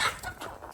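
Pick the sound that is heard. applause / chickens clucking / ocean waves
chickens clucking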